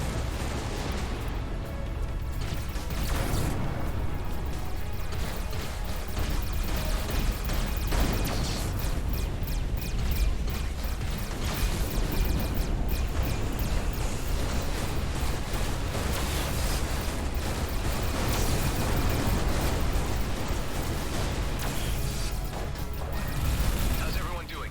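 Dense, continuous barrage of booming spaceship cannon blasts and crashing impacts in the video game Everspace 2, rapid and relentless, filling the whole stretch with loud rumbling noise.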